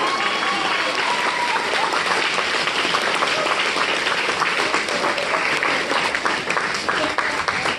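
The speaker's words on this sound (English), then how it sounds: "Round of applause. Round of applause." Steady, dense applause from an improv comedy audience, many hands clapping continuously at an even level throughout.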